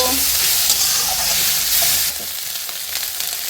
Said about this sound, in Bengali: এবার এগুলোকে একসাথে ভাজতে থাকবো।